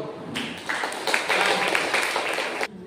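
A church congregation claps together in broad, steady applause that swells in the middle and then cuts off abruptly, loud and close.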